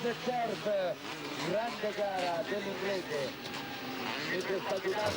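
Honda 500cc Grand Prix racing motorcycles at the 1989 Italian Grand Prix, engines whining and rising and falling in pitch at a distance under continuous race commentary.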